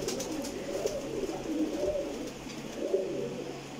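Pigeon breeder pairs cooing in a loft, soft repeated low coos rising and falling over a steady background hum, close by with no talk.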